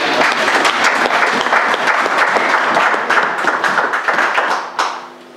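A church congregation applauds steadily and loudly for several seconds during an evangelical service, the dense clapping tapering off at the end.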